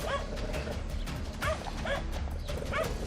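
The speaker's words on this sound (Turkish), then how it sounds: "Avcı köpeklerin domuzu yakalamasıyla öldürmesi bir olmuş" Hunting dogs attacking a wild boar in muddy Sumatran terrain, repeated yelping barks and whimpers over a dense, rumbling background, fairly close and continuous.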